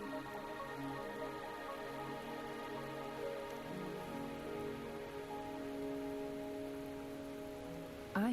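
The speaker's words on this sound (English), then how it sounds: "Are you trapped here by the rain?" Steady rain falls in the video game Wuthering Waves, a constant soft hiss of drops on surfaces with a faint tonal game soundtrack underneath, no voices.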